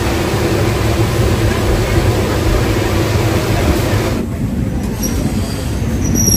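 A general-class passenger train on the Tirupati to Penukonda route rumbles along loudly and steadily, with continuous wheel and carriage noise and a few high wheel squeals near the end.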